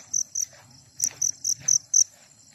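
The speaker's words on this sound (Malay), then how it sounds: "Ni cengkerik." Crickets chirp at night on a hilltop at Bukit Supai, Alor Gajah, Melaka, in short, bright pulses, about eight in a loose rhythm, fairly close and clear over a quiet low hum.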